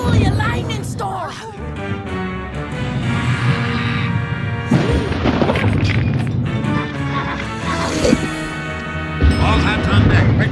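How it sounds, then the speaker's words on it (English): A thunderstorm with lightning crashes in a cinematic scene, loud booming cracks and rumbles striking repeatedly over dramatic orchestral music, with voices calling out between the blasts. "Bully, a lightning storm!"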